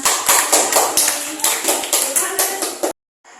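Primary school pupils in a fifth-grade classroom clapping their hands together in a steady rhythmic beat, loud and close, then stopping abruptly.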